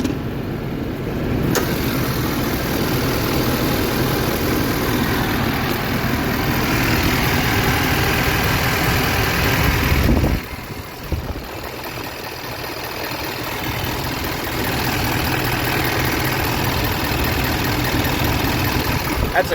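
A customer's five-year-old truck engine idles with a steady low rumble and rattle, dipping briefly partway through before settling back, with a person talking at times over it.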